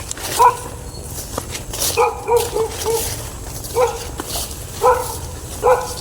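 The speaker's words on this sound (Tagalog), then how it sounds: "Mukhang hindi lang ako yung nakikita ng aso na yan na tumatahol" A dog barks repeatedly in the dark outdoors: about eight sharp, fairly close barks in an uneven rhythm, some doubled, each standing out clearly over a low background hum.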